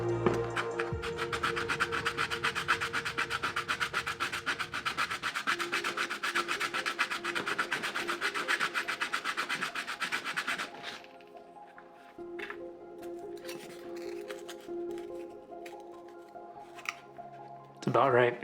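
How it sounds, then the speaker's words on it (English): A belt sander grinds a tough plaster rune stone, a steady loud rasping scrape for about ten seconds, then quieter intermittent rubbing and scraping sounds near the end. "This is sandpaper. It's a belt sander."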